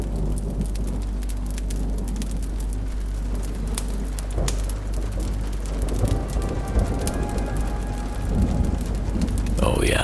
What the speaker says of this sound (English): the rain pounds a cabin's tin roof